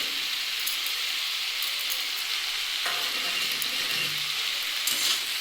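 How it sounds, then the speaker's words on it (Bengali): Radish greens with fried onion and sugar sizzle steadily in a pan, a continuous close frying hiss with occasional stirring scrapes, alone without talk. "এবার সবগুলো একসাথে আমি একটু ভালো করে ভেজে নেব"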